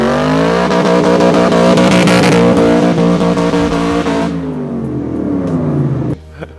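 A Shelby Cobra's engine revs hard and loud close by, the pitch sweeping upward through gears before easing off and dropping to a low idle burble at the end.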